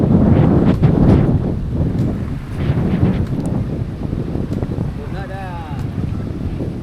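Strong wind buffets the microphone at sea with a steady low roar, while voices talk over it and water sloshes nearby.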